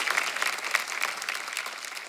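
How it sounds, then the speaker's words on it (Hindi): Studio audience on the Indian TV comedy talk show The Kapil Sharma Show gives an actress a warm welcome with dense, steady applause, a close crackle of many clapping hands holding for about two seconds. "आप सबकी जोरदार तालियों के बीच प्लीज वेलकम योगिता बिहानी।"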